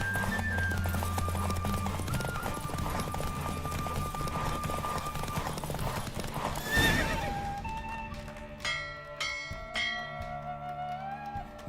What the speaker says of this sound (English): The roach I chose put in a nice run.